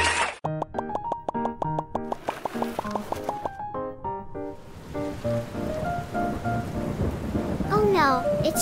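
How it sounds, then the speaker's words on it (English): Steady rain and thunderstorm noise take over about halfway through, rising to a loud, continuous wash after an opening stretch of bright melodic tones. "Oh no, it's raining."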